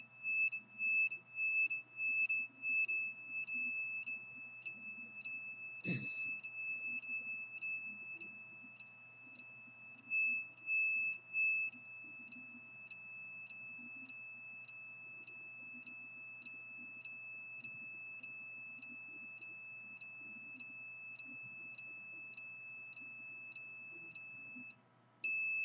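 An electronic detector beeping in a fast, steady rhythm, quiet but clear, pausing briefly and then resuming, with a single sharp knock partway through.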